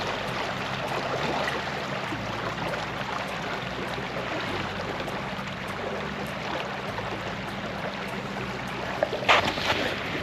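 A motorboat engine drones steadily on a dam lake during a late-winter carp fishing session, a continuous close rumble with wind and water wash, and a brief clatter near the end.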